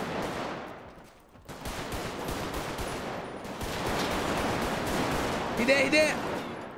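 Gunfire in a GTA roleplay game shootout near a house and fence, a dense scatter of sharp cracks and bursts running throughout, with voices talking over the shooting.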